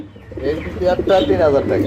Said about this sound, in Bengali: এখানেও দেখতে পাচ্ছেন আরেক জোড়া কবুতর